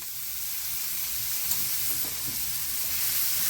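Chicken tortilla soup ingredients sauté in a pan over medium-high heat, giving a continuous hissing sizzle that stays fairly even throughout, with a faint tap or two.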